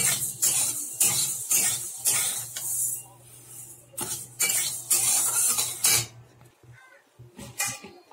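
Moong dal dry-roasted in a kadai, repeated metal spatula scrapes and clinks in uneven bursts over a faint low hum, with quiet gaps near the end.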